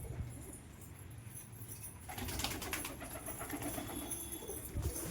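Pigeons coo in a loft, including a puffed-up male courting a hen, with low soft throaty coos amid general bird rustling and ambient noise, fairly quiet and close.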